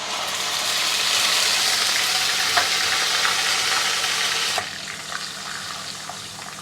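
Onion puree sautéing in a pan over medium heat, a steady, close hiss and sizzle that fills the space, dropping slightly in level near the end, with a few faint clinks.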